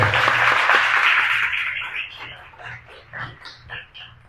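A small group claps briefly. Bright, dense applause under muffled voices that soon thins into a few scattered claps and quiet murmuring.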